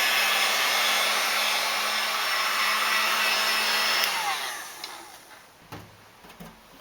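Hot-air heat gun blowing steadily on fresh spray paint on a rat rod door sign in cold conditions, a loud continuous whooshing roar that cuts off after about four seconds and fades into quieter room noise with light clicks.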